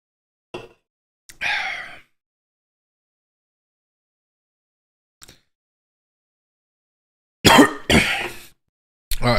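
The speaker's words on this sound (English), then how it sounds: "It might have been the scotch that got me coughing in the first place." A person coughs in several short, close bursts separated by silence: two early coughs, a faint one midway, then a harsher cluster near the end.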